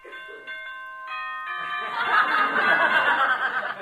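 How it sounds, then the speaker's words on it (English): A boxing bell signals the start of the first round in a radio comedy scene, its clear ringing tones sounding in a short series before a burst of studio audience laughter swells underneath. "Here's the bell for the first round."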